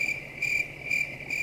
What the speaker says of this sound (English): Okay, stop with the crickets